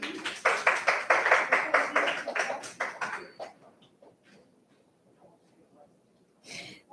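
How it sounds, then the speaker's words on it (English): A small audience at a BUKX event gives a brief round of applause, loud and rhythmic for about three seconds before quickly fading to quiet, with a faint voice afterward. "Can I have a round of applause, please?"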